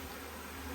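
Honey bees swarming in a steady dense buzz during a beehive frame inspection, close and continuous throughout the brief moment.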